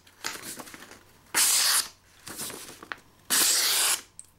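An Oknife Splint folding pocket knife slices through paper in alternating strokes, softer swishes and two loud, sustained hissing cuts, close and with no talking.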